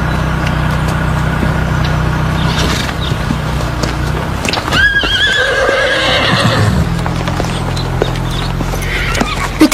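Horses at a riding stable whinny and neigh while hooves clip-clop steadily, with one loud, close whinny in the middle and faint talk and background noise running underneath.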